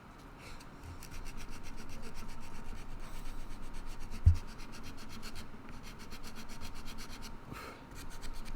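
Steady rubbing and scratching of sandpaper on wood while a guitar neck volute is being carved, a continuous close, low-level abrasive texture with one brief thump midway.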